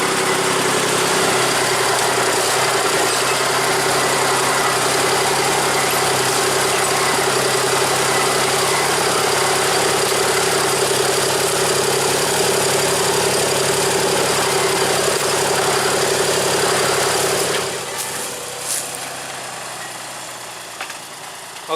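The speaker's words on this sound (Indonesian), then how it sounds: "lokomotif D5 ini akan menarik rangkaian lori isian itu menuju ke jalur utama" A small D5 locomotive idles before hauling a train of sugarcane lorries. Its engine gives a loud, continuous rumbling drone close by, then drops in level near the end as faint clanks come through.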